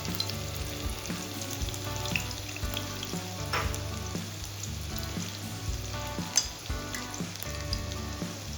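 Finely chopped onion frying in a pan with cumin for restaurant-style paneer masala makes a dense, continuous sizzle with light stirring clatter, moderately close and free of speech.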